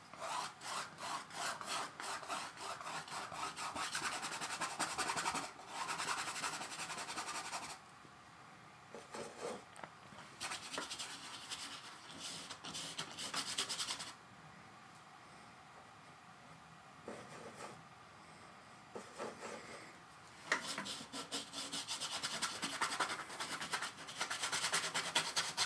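A paintbrush scrubs paint onto a seascape canvas in repeated rough, bristly strokes, coming in bursts with short pauses, close and fairly quiet.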